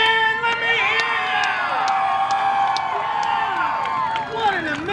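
A drag strip crowd at Mo-Kan Dragway cheers and shouts loudly, many overlapping voices whooping and yelling continuously across the whole moment.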